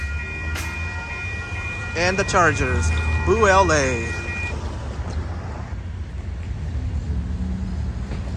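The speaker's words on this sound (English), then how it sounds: "This train has three P42s on it." An Amtrak Coast Starlight passenger train hauled by three P42 locomotives passes the Fruitvale Avenue crossing with a steady, fairly close low rumble, while someone talks over it partway through.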